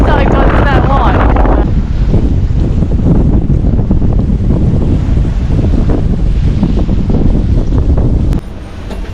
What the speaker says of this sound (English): looks like the wind is holding an almost constant sort of speed and direction at the moment